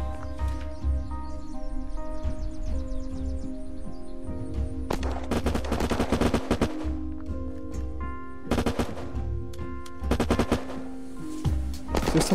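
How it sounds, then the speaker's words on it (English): Bursts of rapid gunfire in the Unturned video game break out in several clusters over a steady humming music bed, loud and dense in short volleys with quieter gaps between. "There's just so many shots everywhere, I have no idea where people are."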